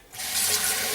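Water splashes into a container of fermenting tomato seeds, starting abruptly and continuing as a bright, even pour for about a second.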